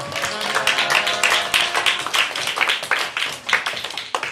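Church youth group clapping together to celebrate birthdays, a lively dense patter of many hands with slight tapping accents, fairly loud and close throughout.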